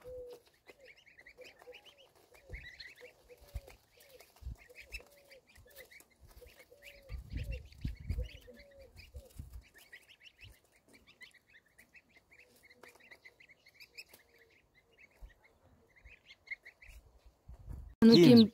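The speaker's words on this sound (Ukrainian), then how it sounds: "Це домашні качечки ще в мами" Domestic ducks and geese quack and honk in repeated, fairly quiet bursts in a small farmyard pen, with scattered thumps and a loud close noise at the end.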